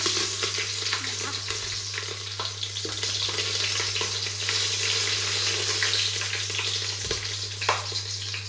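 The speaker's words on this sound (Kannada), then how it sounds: "ಎಣ್ಣೆ ಕಾದಿದೆ, ಇವಾಗ ಫಸ್ಟ್ ಹಸಿಮೆಣ್ಸಿಕಾಯಿನ ಹಾಕ್ತಾಯಿದ್ದೀನಿ" Green chillies frying in hot oil for a tempering in a chicken gravy recipe, a steady dense sizzle with faint stirring clicks throughout, under a constant low hum.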